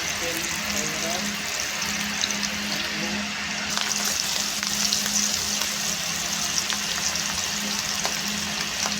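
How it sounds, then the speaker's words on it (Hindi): Food sizzles steadily in hot oil in a home kitchen, a constant crackling hiss at moderate loudness with some clatter, while a person talks over it. "देखिए तो इसको तेल में ये फ्राई हो रहा है।"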